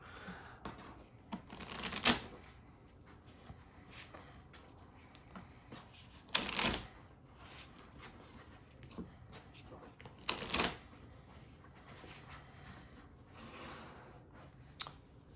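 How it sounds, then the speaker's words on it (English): A deck of cards from a pro wrestling promoter board game gets shuffled, with three sharp riffle bursts spaced several seconds apart and quieter card handling between them, fairly close and soft. "So we'll give this another good shuffle."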